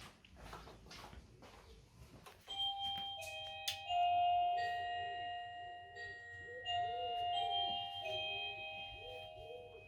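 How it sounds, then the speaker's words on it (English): After some soft bumps and rustling, an electronic doorbell rings out a drawn-out multi-note chime, tinny and slightly distant as if played back through a phone. "take a video recording of your doorbell or knock noise"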